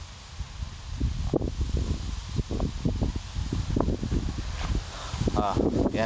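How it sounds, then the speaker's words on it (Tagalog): Strong wind gusts buffet the microphone and rustle through ripening SL-39H hybrid rice plants, steady and loud, with someone talking over the noise throughout. "Napakahangin po ng panahon dito ngayon."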